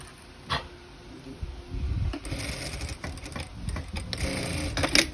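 A sewing machine stitches sleeve ends and a garment hem in quiet, intermittent runs of mechanical whirring, with small clicks and fabric handling between the stitching bursts.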